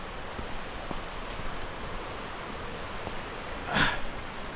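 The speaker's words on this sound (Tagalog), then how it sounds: "Narinig nyo na guys ang hulog ng tubig." A steady, hissing rush of a forest waterfall, faint and continuous, with one brief louder splash near the end.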